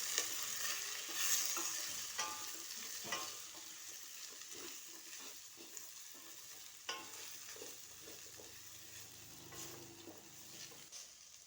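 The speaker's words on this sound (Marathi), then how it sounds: "आता व्यवस्थित मिक्स करून घ्यायचं" Potatoes and green field beans are stirred with masala in a pan, a spatula scraping and tapping now and then over a soft, continuous sizzle, heard up close without talking.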